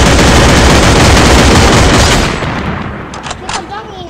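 Rapid, very loud close gunfire in a video game, a dense burst of shots lasting about two seconds before cutting off into quieter game sounds with a few faint clicks.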